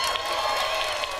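Audience applause at the Bethesda E3 2018 showcase, a steady wash of clapping with some cheering, fairly faint and continuous, heard at a distance.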